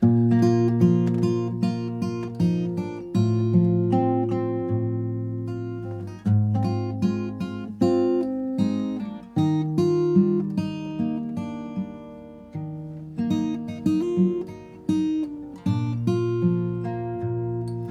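Fingerstyle acoustic guitar plays a melodic line over plucked chords, with steady, clear notes and a gentle rhythm, no voices.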